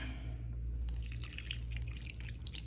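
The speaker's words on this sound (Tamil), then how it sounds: "அடுத்தது தண்ணியை ஊற்றணும்" Water poured into parotta dough trickles and drips steadily close by, a soft wet splashing that continues without pause.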